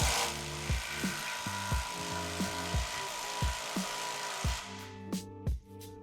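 GISAM 1800 Nm impact wrench running at top speed while tightening a nut, giving a steady mechanical drone broken by a rapid series of hammering impact pulses about once a second, close and loud throughout.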